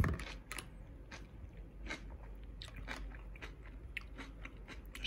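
Close, wet chewing and crunching of Miyama brand kimchi from a Japanese market, steady bites and mastication continuing alone without speech.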